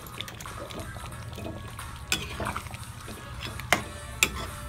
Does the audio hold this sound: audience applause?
no